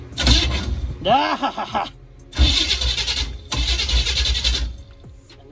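An old van that sat stuck in mud for 20 years cranks in three long, close bursts with a rhythmic starter churn, failing to catch; a man lets out a short exclamation between attempts.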